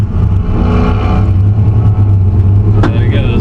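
A Ford F100 at the drag strip, its engine rumbling steadily with a low idle drone, followed near the end by a sharp rising squeal and roar as the truck launches hard.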